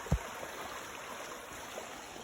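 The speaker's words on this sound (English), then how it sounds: "it's just a creek that's running on alongside this hiking track" A creek runs beside a wilderness hiking track in Tasmania, giving a steady, even rush of flowing water throughout with a soft thump near the start.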